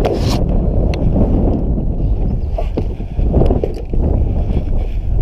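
Gusty wind roars steadily across the microphone of a kayak out on open water during a windy fishing day, a loud broadband rush with a few brief knocks and no voices.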